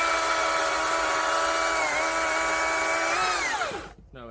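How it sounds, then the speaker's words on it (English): A battery-powered electric chainsaw cutting firewood logs whines at a steady high pitch, dips slightly under load, then spins down quickly and stops near the end. "This chainsaw tears through logs."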